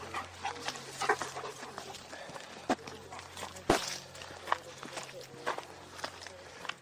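Big dogs pad about with footsteps and panting, giving small whimpers and snuffles in an irregular rhythm close by, while people talk over them.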